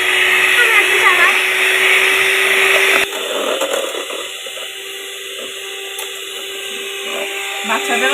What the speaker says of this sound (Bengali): বাচ্চাদেরও সব ব্লেন্ডার দিয়ে ব্লেন্ড করবে।